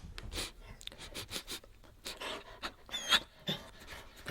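A dog pants in quick, close bursts of breath, with a few soft scuffing and rustling noises between them.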